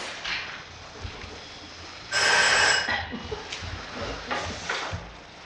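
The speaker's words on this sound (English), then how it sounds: "Are you going to answer that phone?" An electronic telephone rings onstage during an amateur theatre production of On Golden Pond, a single bright burst lasting about a second over quiet room tone, followed by faint stage noises.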